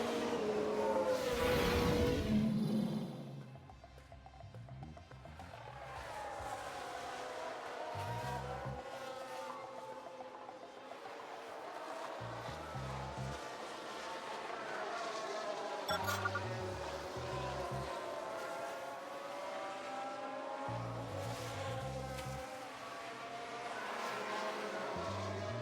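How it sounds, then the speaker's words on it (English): Race cars in F1 Manager 22, with an Alfa Romeo spinning out during a replay: a loud engine roar at the start, then a steady, rising and falling engine whine with repeated gear shifts. "Sounds like we've had a spin."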